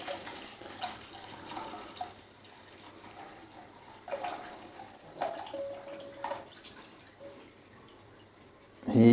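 One litre of full cream milk pours into a pan for basundi, a soft gurgling liquid stream with a few bursts and a louder splash at the end, close and without talk.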